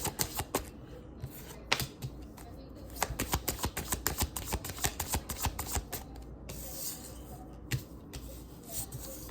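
Tarot cards being shuffled by hand in quick bursts of dry, rapid riffling and flicking clicks, fairly close and steady across the stretch, with brief pauses between runs.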